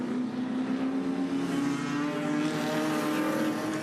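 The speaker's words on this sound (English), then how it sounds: "Ubergang really struggling to get that car pulled up down there at turn 1." An Improved Production race car brakes hard into turn 1 at Hidden Valley. A loud, sustained engine drone shifts pitch as it slows, with no talk over it.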